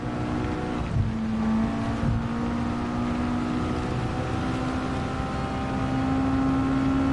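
Engine note of an MX5 race car in a rainy racing video game, a steady droning tone with a slowly rising pitch, continuous and fairly loud throughout with no talking.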